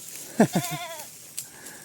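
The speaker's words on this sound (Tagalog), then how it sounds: "Andiyan na yung mga kambing oh." Goats bleat on a hillside farm among fruit trees, a few short wavering calls close by, one stretched into a long quavering bleat, with faint background sounds and a laugh nearby.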